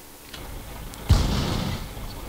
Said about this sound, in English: something shot at me, but hit the rock here in front of me